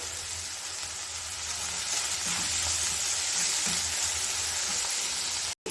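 Tomatoes sizzle steadily in a hot pan after salt goes in, a continuous close frying hiss with faint stirring scrapes, ending in a brief cut to silence.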